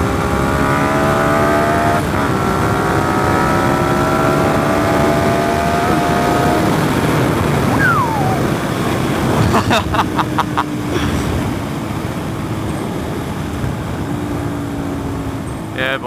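A Suzuki SV650S motorcycle engine on a road test ride, loud and close-up, with revs rising and falling through gear changes and a steady rushing wind noise underneath. A rider talks over it at times.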